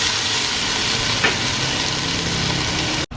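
Tomatoes fry and sizzle in a hot pan with a steady, close hiss that runs unbroken, one brief clink partway through and a sudden cut at the end.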